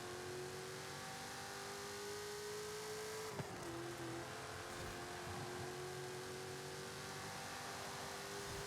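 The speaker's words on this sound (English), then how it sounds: "Pretty high revving car. I guess we are supercharged in some way." The supercharged engine of an Impala race car in Forza Horizon 5 revs high and steady, a continuous droning whine that dips briefly with a shift, close and loud with no talk.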